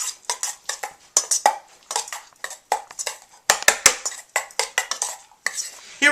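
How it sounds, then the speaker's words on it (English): A spoon clinks and scrapes rhythmically against a bowl while stirring chimichurri, each close, sharp stroke separated by short pauses, with no talking over it. "What we're going to do is give it like a little stir."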